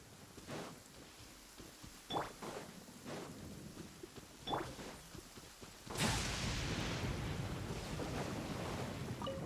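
Thunder follows a lightning flash in the video game Genshin Impact: faint scattered rumbles, then a sudden loud crack that rolls into a sustained, broad rumble lasting several seconds, with no voices.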